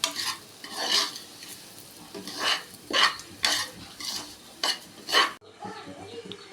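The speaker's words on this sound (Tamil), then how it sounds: "இந்த ஒரு கப்பு ரவை சம்பா ரவை நல்லா வறுக்கணும்" Samba wheat rava dry-roasting in a pan, stirred in a steady rhythm of rasping scrapes about once a second, fairly close, ending with a brief quieter stretch.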